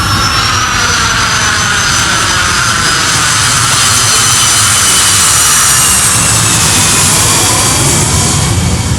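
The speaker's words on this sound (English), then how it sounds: "Sorry, had to wait for that plane to go by. These damn jets. Low flying suckers anyway." Low-flying jet airplane passing overhead, a loud continuous roar with a sweeping whine that fills the whole stretch, steady and close, with no talk over it.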